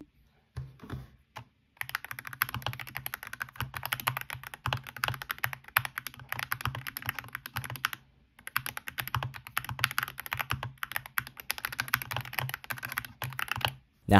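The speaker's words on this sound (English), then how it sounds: "And here's the final modded sound test." Rapid clacky typing on a modded DrunkDeer G65 mechanical keyboard, close and crisp, in two long continuous bursts separated by a brief pause.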